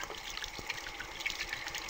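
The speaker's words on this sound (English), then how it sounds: "I'm going to go ahead and lather it up." Wet, foamy lathering of a black activated charcoal cold process handmade soap with water, a soft continuous squishy trickle close by, alone without talk.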